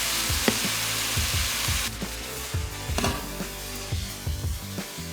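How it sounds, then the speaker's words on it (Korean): Onion and zucchini are stir-fried on a 3300W LG Dios induction cooktop, with a continuous sizzle and repeated scraping knocks from a spatula tossing the vegetables. "양파와 애호박을 여러 번 나눠서 볶아주세요"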